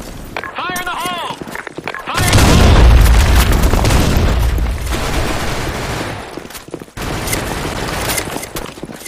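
A grenade explodes in a Sand Storm II video game match, a sudden loud boom with a long rumbling tail, then a sharp cutoff and further gunfire-like crackle. Game voices and a person talk over and around it.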